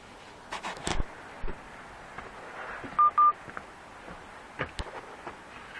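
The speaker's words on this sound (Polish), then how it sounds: "telefon mi mówi, że mu bateria się kończy" Two short electronic beeps sound in quick succession from a phone, set against quiet background noise with a few scattered clicks and knocks.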